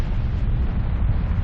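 Deep rumbling explosions in the video game Ark Survival Evolved, a continuous low, wind-like roar that sounds distant and muffled.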